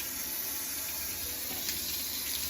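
Water running steadily from a faucet or sprayer while rinsing a small dog in a bath, a constant close hiss with slight splashing, no voices.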